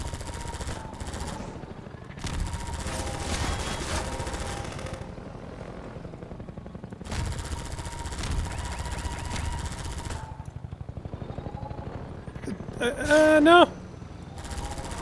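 Bursts of rapid automatic gunfire in Half-Life 2 rattle in long sustained stretches with brief pauses between them, loud and close, while a voice briefly speaks during a pause.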